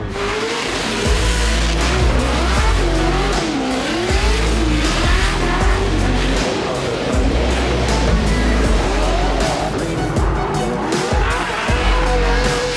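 A loud race car engine revs and wails continuously while tires squeal and scrub, the car drifting sideways at about 45 mph in cold weather in New Jersey, with wavering pitch, heard up close.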